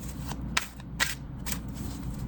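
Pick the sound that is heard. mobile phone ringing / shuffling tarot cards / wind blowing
shuffling tarot cards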